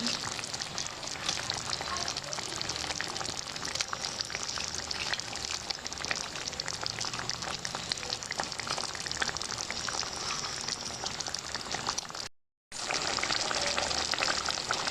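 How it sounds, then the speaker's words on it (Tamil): Fish curry gravy bubbling and sizzling hard in a pan as fish goes in, a dense continuous crackling hiss throughout with a brief dropout near the end, no voices. "இப்போ வந்து குழம்பு நல்லா கொதித்து சுண்டி வந்துருச்சு நம்ம வந்து மீனை சேர்த்துக்கலாம்"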